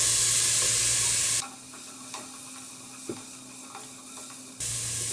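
Onions sautéing in a pan for egg biryani, a steady sizzle with a few light stirring knocks, set between louder bursts of broad hissing noise at the start and end.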